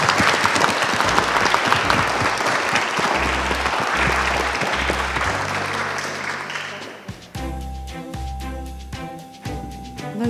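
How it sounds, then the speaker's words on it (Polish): An audience gives warm, sustained applause to student debaters at a school film-debate competition. The clapping is loud and continuous over background music for several seconds, then fades out while the music carries on alone. "Były bardzo stremowane, czyli dla nich jeszcze raz gorące oklaski."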